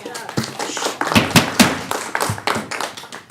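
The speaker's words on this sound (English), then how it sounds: "So hold your applause." Audience applause at a Solvang city council meeting: a burst of scattered hand claps, sharp and close, with some irregular louder slaps, lasting a few seconds.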